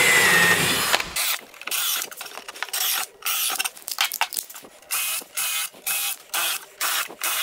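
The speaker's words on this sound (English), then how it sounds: "Now we just have to add a bunch of screws into the top of it." A power driver sinks screws into a pine bench top, repeated whirring bursts of steady length with short pauses between, close and loud, after a brief opening hum.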